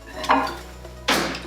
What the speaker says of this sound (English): we're just gonna pop our butter in the microwave so it will warm up.